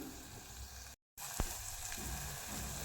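Mango ginger sautéing in hot oil: a steady close sizzle with one short tap and a brief gap of silence, no voices.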